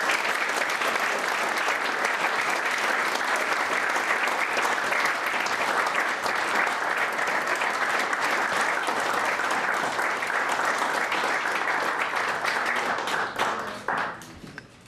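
An audience applauds steadily for a Queen's Diamond Jubilee medal recipient at an indoor presentation, loud sustained clapping for about fourteen seconds before it quickly dies away.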